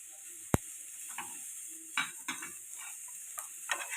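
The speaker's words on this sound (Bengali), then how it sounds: "এবং একটু নেড়ে দিলাম।" Green beans with roasted sesame seeds get stirred in a pan over low flame: scattered light scrapes and soft clicks of a utensil against the pan over a quiet, faint sizzle, with no talking.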